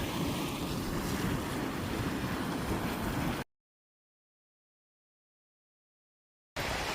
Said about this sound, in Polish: To jest wodospad z Kjerglelfoss